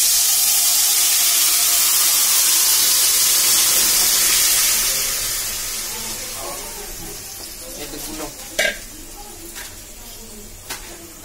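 Marinated meat for biryani hits a hot pot with a loud, close sizzling hiss that slowly fades and softens, followed by a few light clinks of utensils near the end.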